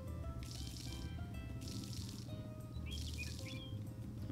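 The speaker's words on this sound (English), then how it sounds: "And get all of our crops nice and watered." Crops being watered with a watering can in the farming game Story of Seasons: A Wonderful Life: three short, splashy bursts of spraying water come at a steady pace over soft game music with light chirps.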